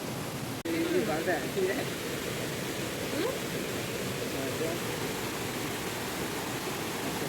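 Fresh water flowing steadily in a village stream, a continuous broadband rush that stays loud and even throughout, with a brief knock near the start.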